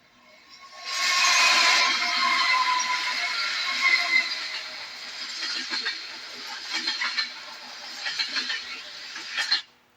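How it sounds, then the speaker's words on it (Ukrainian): A recorded train rumbles and rattles for about ten seconds, a steady hissing roar with repeated clacking beats toward the end, played as a sound-guessing game for a child. "Поїзд. Поїзд."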